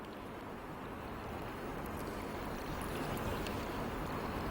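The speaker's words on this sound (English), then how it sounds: "The sound of the water trickling into the bowl makes the cave seem more holy." Steady, continuous trickle of water running from a carved dragon's mouth and splashing into a bowl in a cave, close and even throughout, with no voices.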